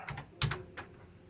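A few quick, light keystrokes clicking on a Commodore SX-64 keyboard, close and fairly quiet, then a brief pause.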